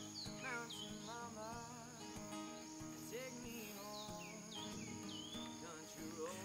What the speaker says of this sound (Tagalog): Naririnig niyo po yung mga maiingay na ibon, no?